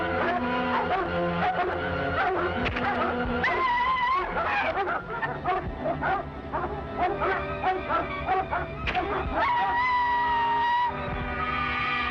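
A pack of dogs barks and howls in an old adventure serial, a loud, dense, continuous chorus of overlapping barks and yelps that runs for the whole stretch.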